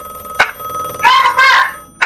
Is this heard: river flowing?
no